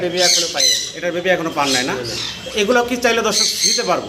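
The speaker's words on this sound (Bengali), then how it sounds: "এই পাখিগুলো মূলত ডাকাডাকি করতেছে" Pet rosellas and lories at a bird farm give loud, close, repeated squawks and harsh calls, overlapping with people talking.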